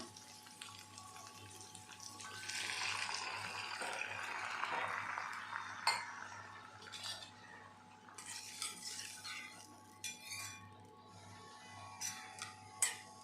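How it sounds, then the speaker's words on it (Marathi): A glass of water is poured into a cooking pot of sweet corn soup, a swelling watery splash in the first half followed by scattered clinks and scrapes of utensils against the pot. "आता आपण याच्यामध्ये एक ग्लास पाणी टाकूया"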